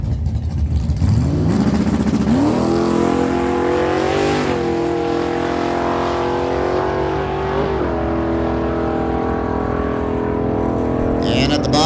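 A 1973 Plymouth Cuda drag car with a 493 cubic inch engine roars loudly down a dragway strip, its pitch climbing through several gear shifts over a continuous near, heavy engine drone, with an announcer talking over it.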